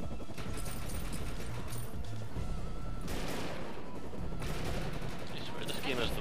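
Gunfire in the co-op shooter video game Defiance, rapid bursts of shots and small explosions over dense game noise, with players talking throughout.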